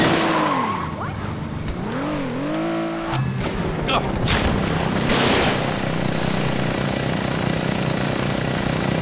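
Loud, continuous helicopter rotor whine and engine roar from the game Saints Row 2, mixed with vehicle and crash noises, with no talking.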